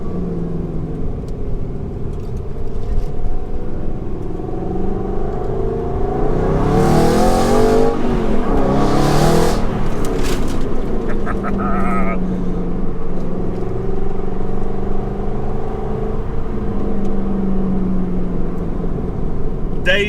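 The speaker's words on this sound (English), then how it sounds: "I've got the orange supercars behind." A convoy of orange supercars, an Aston Martin GT8 among them, accelerates with loud engine roar and rising revs, close and sustained, with a voice talking over the rumble.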